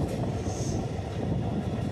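The Prayagraj to Howrah Special train (03024) pulling into a station at night, a steady loud rumble of rolling rail wagons with a brief high squeal early on, continuous throughout with no talk.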